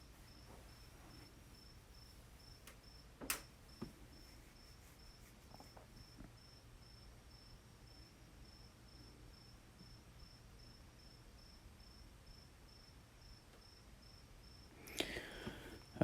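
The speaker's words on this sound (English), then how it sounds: "I think outside my window there's like a cricket." A cricket chirps steadily outside a window at night, a faint, continuous high trill with a couple of brief knocks and rustles nearby and no voices.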